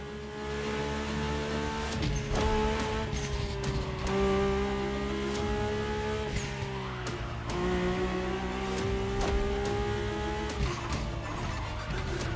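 Mercedes-AMG One hypercar engine in The Crew Motorfest, a steady high-pitched hybrid V6 drone with rising revs and sharp gear shifts at intervals, loud and continuous with no talking.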